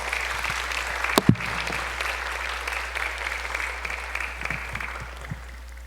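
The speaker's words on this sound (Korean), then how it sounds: "등단하실 때까지 큰 박수로 맞이해 주시기 바랍니다." A church congregation applauds to welcome a missionary, a steady roomful of clapping carried through a PA with a constant low hum and one sharp thump early on.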